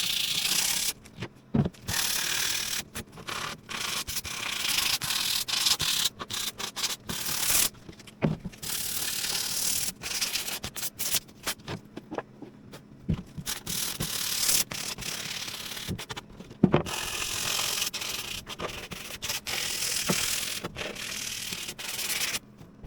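Hand sanding of a wooden shelf with 220-grit sandpaper: steady, continuous rasping strokes at close range, rhythmically repeated for a long stretch with a few brief pauses and no talking.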